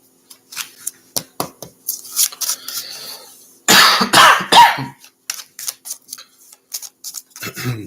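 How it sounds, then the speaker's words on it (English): A person coughs repeatedly from burning sage smoke, with sharp, close bursts spread in irregular clusters and a heavier, harsher fit in the middle. "I think that's why I'm coughing even more"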